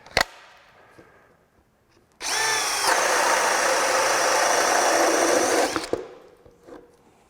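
A Craftsman brushless hammer drill (CMCD721 or CMCD731) whines loudly and steadily as it bores for several seconds, then abruptly cuts out and falls silent, with faint handling noises before and after.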